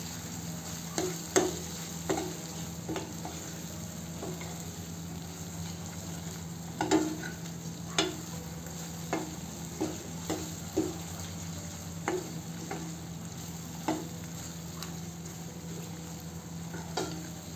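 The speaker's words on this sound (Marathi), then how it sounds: "हळद आहे अर्धा चम्मच, छान फिरवून घेऊ." Egg curry masala fried with whole spices and turmeric, stirred with a spoon: scattered sharp scraping clicks of the spoon against the pan over a soft, constant sizzle, close and fairly quiet, with a faint steady hum underneath.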